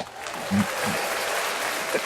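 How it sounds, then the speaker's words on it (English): Brief, low-key applause from a small podcast audience, a scattered wash of clapping that lasts about two seconds with some voices mixed in. "Let's give Sam a round of applause."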